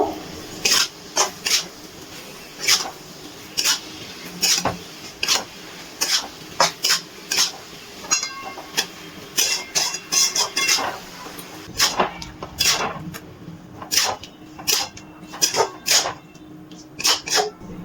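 Chalta fruit stirred into melted jaggery in a pan over a medium gas flame: a steady series of sharp spoon-against-pan scrapes and clinks, close and fairly loud, repeating roughly every half second with a faint simmer underneath.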